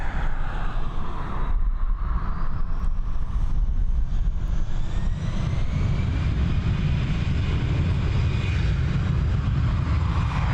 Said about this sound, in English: this Airbus A320 operated by Air France beginning its final preparations for departure on runway 10R here in Dublin